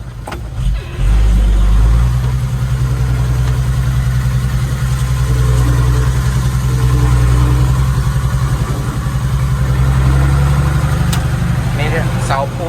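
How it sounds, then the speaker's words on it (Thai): A loud tractor engine idles steadily throughout, a deep constant drone with slight swells, close by; a few brief voices sound near the end. "นี่รถไถรอครับ"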